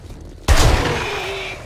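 A sudden loud gunshot burst in 7 Days To Die cracks out after a quiet moment, then rings and decays through a long echoing tail, with no talk over it.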